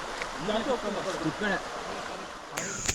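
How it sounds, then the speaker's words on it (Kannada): River water released from Dandiganahalli dam rushes by in a steady broadband wash, with a voice talking over it for the first half before the flow carries on alone. "ಇದೆಲ್ಲ ಡ್ಯಾಮ್ನಿಂದ ಹರಿದು ಬರ್ತಿರುವಂತಹ ನೀರು"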